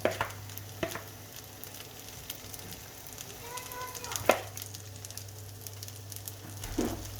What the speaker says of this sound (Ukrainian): Я смажитиму на помірному вогні з обох сторін до готовності